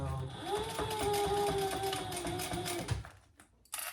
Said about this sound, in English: we'll cover that raw edge and sew